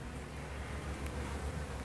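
Honey bees buzz inside a hive opened for a winter inspection, a faint, continuous low hum of many wings, steady and close, with no voices.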